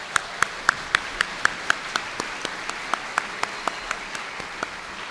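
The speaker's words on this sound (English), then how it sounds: "Let's give them a round of applause." Scattered, fairly sparse hand claps at a summer high school commencement ceremony, a steady run of distinct claps at moderate distance that thins out toward the end, with no talking over them.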